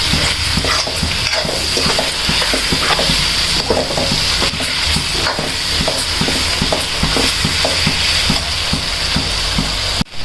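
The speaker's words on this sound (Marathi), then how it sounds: "आता व्यवस्थित फ्राय करून घ्यायचं त्याला." Garlic, coriander and cumin masala paste fries in a pan, a loud close sizzle broken by frequent stirring clicks and scrapes at an irregular pace.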